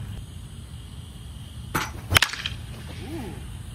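A $40 wood baseball bat strikes a ball with one sharp crack near the middle, followed by a brief rattle, standing alone over quiet outdoor background.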